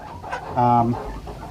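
Chickens on a farm give a short clucking burst, close and fairly loud, with a brief quieter cluck just before it and low background murmur.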